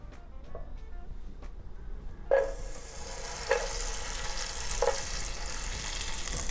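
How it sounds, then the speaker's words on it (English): Three tablespoons of butter melting in a high-sided saucepan over medium heat, a soft steady sizzle with a few sharp clinks of a utensil against the pan. "Melt that butter down."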